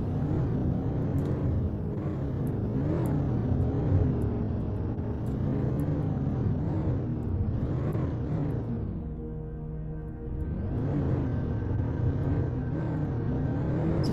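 A rover in the video game The Planet Crafter drives steadily, its engine a continuous low rumbling drone that eases briefly before picking back up.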